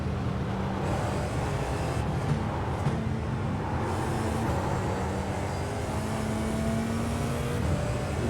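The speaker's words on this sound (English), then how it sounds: "You hear the turbo winding up back there" Turbo winding up behind the driver of an F4 race car in the iRacing sim, a steady engine drone with a rising whine held over the whole stretch, close and continuous with no talk.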